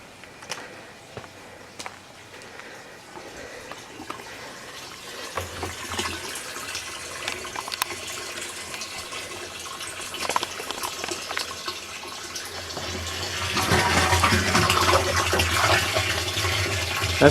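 Water pumped from a rain barrel rushing out through a garden hose with a weak far end, a hissing flow that builds gradually and grows loudest near the end, with scattered footsteps and no speech.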